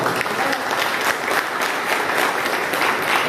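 Seminar audience clapping at an RCM business seminar in Balrampur, a steady dense patter of many hands sustained throughout at close range, with faint voices mixed underneath.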